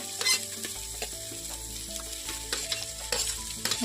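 Capsicum (bell pepper) stir-fried in a hot pan for pendpala sizzles steadily and close, with repeated scraping strokes of a spoon against the pan and no talking.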